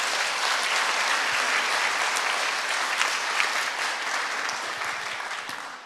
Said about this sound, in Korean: 다시 한번 박수를 한번 크게 쳐봅니다